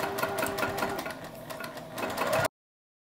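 Sewing machine backstitching a seam on a bucket hat, a steady close-up rapid stitching whir running continuously for a couple of seconds before stopping abruptly.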